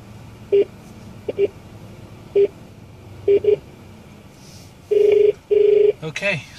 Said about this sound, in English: you can see the phone is ringing in the speakers